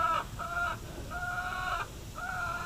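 A hen squawks from inside a coop in repeated loud, drawn-out cries with short gaps between them, heard close against a low rumbling background.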